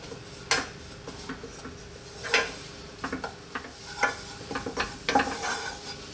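A flour roux cooks in a pan for a fish and parsley sauce while a utensil stirs and scrapes it in irregular strokes, each scrape rising over a soft, low sizzle.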